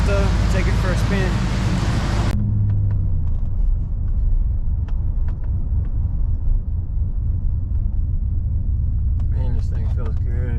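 A rebuilt 2008 TBSS engine runs at a steady idle, a loud, continuous low rumble that holds for several seconds, with talking before and after it.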